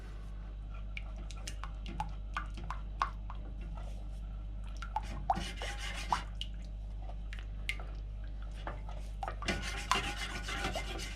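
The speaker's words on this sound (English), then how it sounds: "What you're going to do now is stir this all in together." Honey, soy sauce and other BBQ rib sauce ingredients are stirred together in a warm pan on the stove, giving soft wet scraping and sticky squelching strokes over a low steady hum.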